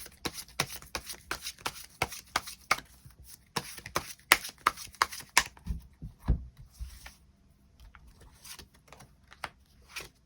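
Tarot cards being shuffled and drawn: quick, crisp riffling flutters in a steady rhythm, with sharper snaps as single cards are set down, close and fairly quiet with no talk.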